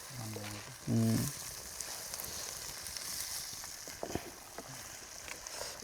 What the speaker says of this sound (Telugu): దీంట్లోనే టమాటా ముక్కలు కూడాను కలిపిస్తున్నాం కాసేపు వేగిన తర్వాత అలానే పచ్చిమిరపకాయలు కూడాను బావా కలిపేసే